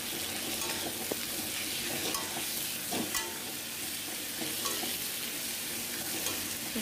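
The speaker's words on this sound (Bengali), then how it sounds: "এবার মশলাটা কষিয়ে নেব।" Spice paste of ginger, garlic, green chili, cumin, salt and a pinch of sugar sautéed in a pan for khichuri, a low steady sizzle broken by repeated scraping and stirring knocks of the spatula.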